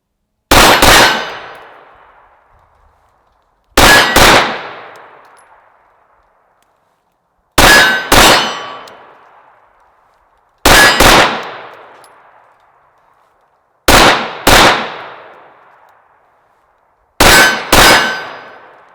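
Glock 19 Gen 4 pistol fires six rapid double taps, each pair of sharp, loud close shots ringing out at an even pace with short pauses between pairs.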